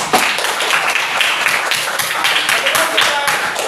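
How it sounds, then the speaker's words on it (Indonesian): A classroom group claps their hands together in a lively, slightly uneven burst of many claps at close range, with voices mixed in. "Tepuk tangan dulu untuk kita semua."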